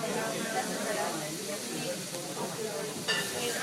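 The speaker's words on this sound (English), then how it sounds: "I'm going to put the tomato sauce in." Tomato sauce hits hot sautéing oil in a restaurant kitchen pan, giving a steady broad hiss and sizzle that stays even and close throughout.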